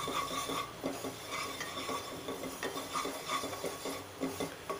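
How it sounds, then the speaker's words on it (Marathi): Flour dry-roasting in a kadhai over medium heat, a soft rhythmic scraping as a spoon stirs it round, with faint rustling and occasional light clinks of metal. "आणि हे पीठ भाजून घेऊया, छान सुक्कच भाजायचं आहे।"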